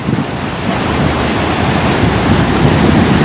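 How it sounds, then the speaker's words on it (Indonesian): Ocean waves crashing on the beach at Balekambang near Malang, East Java, a loud continuous roar of surf with gusty wind noise on the microphone. "contoh kecilnya ombaknya itu. Itu nggak rekayasa ya."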